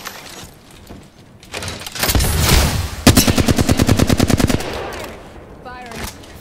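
Automatic gunfire in a video game, a rapid loud burst of evenly spaced shots lasting over a second, preceded by a louder blast and followed by quieter game sounds, with voices speaking.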